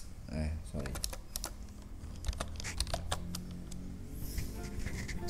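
Quiet typing on a computer keyboard, with a sharp irregular run of key clicks and taps close by, and a person talking faintly at times.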